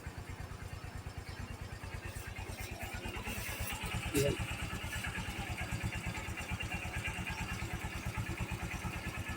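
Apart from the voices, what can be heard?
motor engine being warmed up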